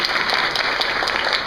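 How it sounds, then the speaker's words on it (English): Audience applause at an author talk, a dense, even wash of many hands clapping together, loud and continuous throughout the short stretch. "let's all applaud her"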